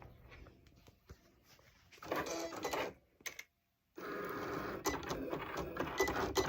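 A home printer runs a print job for a Cricut print-then-cut design, with a soft whir, then loud mechanical feeding and printing passes, a brief pause near silence, and steady printing resuming close up.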